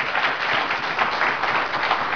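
A church congregation claps hands in praise during a sermon, a dense, loud and even roar of many hands sustained throughout with no speech on top.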